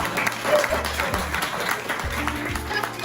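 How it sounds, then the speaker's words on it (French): An audience at a business presentation breaks into continuous applause, many hands clapping at an even level, with low rhythmic background music thumping underneath. "applaudissez"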